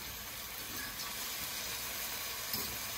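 Salmon patty mixture cooking in a pan, a steady, even sizzle of frying that stays level and close throughout, with no talking over it.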